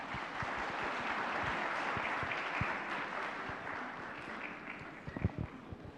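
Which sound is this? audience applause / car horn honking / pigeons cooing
audience applause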